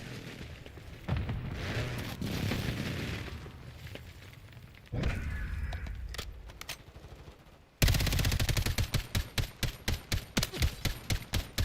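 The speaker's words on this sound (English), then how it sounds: "Enemy precision airstrike. Find cover." Enemy precision airstrike in Call of Duty Modern Warfare II, with heavy rumbling blasts and booming impacts followed by a loud, rapid burst of repeated gunfire-like strikes at the end.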